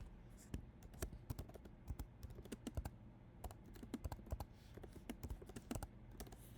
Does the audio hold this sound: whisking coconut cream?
no